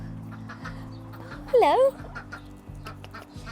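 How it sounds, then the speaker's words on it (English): In a farmhouse chicken coop in Surrey, a chicken gives one short, loud cluck over a low, steady background hum, while a person briefly speaks nearby. "a chicken coop."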